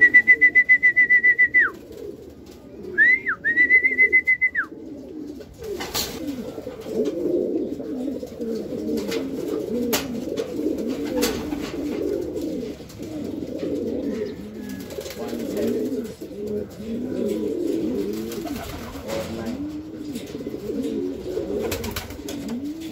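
Racing pigeons coo continuously in a loft at close range after a 253 km derby flight from Bacnotan, La Union, the soft burbling calls layered over each other, opened by two short electronic beeping tones and a few sharp clicks.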